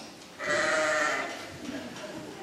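Sheep bleating, one loud, close, drawn-out bleat that fades into a softer tail over steady background noise.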